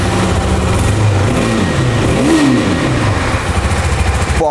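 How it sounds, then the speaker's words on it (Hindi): KTM Duke motorcycle engine started and revved hard nearby, loud and continuous, with quick rising and falling revs climbing rapidly through the RPM range and no talking over it. "मैं किल स्विच को इंजन को ऑन करता हूँ"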